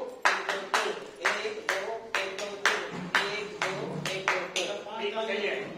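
A group of people clap in the panch tali pattern, two slow claps followed by three quick ones, the sharp handclaps repeating in close, loud cycles with voices underneath.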